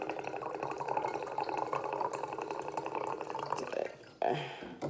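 Water is poured from a tap into a jar for making kefir, a continuous gurgling, splashing fill that runs for about four seconds, then a brief pause and a short final splash.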